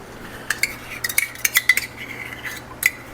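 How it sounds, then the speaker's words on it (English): A teaspoon scrapes barbecue sauce ingredients into a pot on the stove, giving a quick run of sharp metallic clinks and taps against the rim, close and bright, then a last clink after a short pause. "Let me get a teaspoon so I can"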